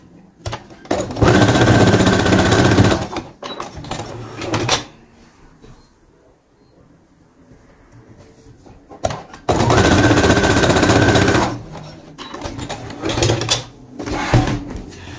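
A sewing machine stitching a straight seam on fabric, two loud close bursts of rapid mechanical whirring separated by a quiet pause with faint handling noise.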